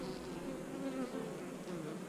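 Honey bees drone steadily at an open hive with black and yellow bees and black drones on the frames, a continuous close buzzing swarm with no voices over it.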